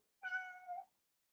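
One cat lets out a single clear meow of about seven-tenths of a second, close and moderately loud, with silence before and after.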